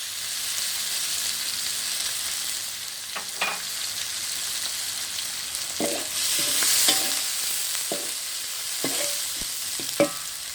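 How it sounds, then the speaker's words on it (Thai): Snakehead fish stir-fried in oil in a wok for a spicy Thai stir-fry, with a steady sizzle and scattered clinks of the spatula scraping and tossing. "ต่อมาเราใส่น้ำน้ำมันนะคะเพิ่มลงไปแล้วเราก็ผัดเลยค่ะ"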